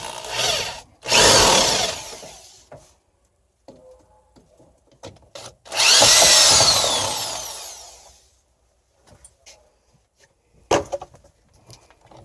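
A power drill backs screws out of a greenhouse shelf: two loud, sustained whirring bursts of a couple of seconds each, separated by quieter clicks and knocks, close by with no voice.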